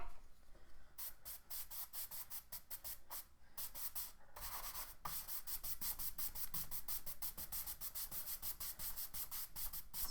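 Brush dragged across a surface while thinning and blending acrylic paint to hide strokes, giving soft repeated rubbing strokes in a steady rhythm, close and fairly quiet with no talking.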